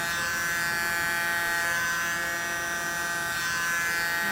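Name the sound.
blower used on acrylic paint pour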